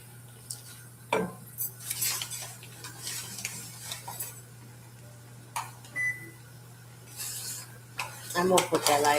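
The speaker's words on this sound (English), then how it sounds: "So I'm gonna take a half a cup of flour because we're doing even to even. And we're gonna stir it up." Half a cup of flour stirred in a pot in a home kitchen, with scattered scraping and clinking of a utensil against metal, irregular bursts over a steady background hum.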